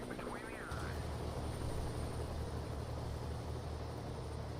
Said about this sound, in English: Those helicopters are just overpowered.